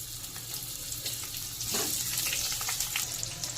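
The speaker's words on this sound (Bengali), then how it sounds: "আলু হালকা লাল করে ভেজে নেবো" Potato pieces fry in hot oil for a boal fish curry, a steady close sizzle with some stirring and clatter, no talking.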